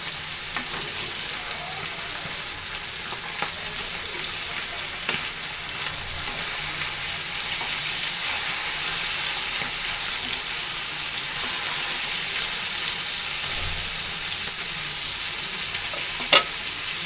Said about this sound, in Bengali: ইলিশ মাছ ভাজাটা হয়ে গিয়েছে, এখন নামিয়ে ফেলবো